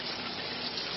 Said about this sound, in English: A shower first thing in the morning to wake you up and get you squeaky clean.